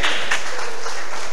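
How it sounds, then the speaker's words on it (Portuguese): Church congregation at a workers' meeting applauding together, a short burst of claps and cheering voices that fills the room, loud and close. "vamos aplaudir o Senhor"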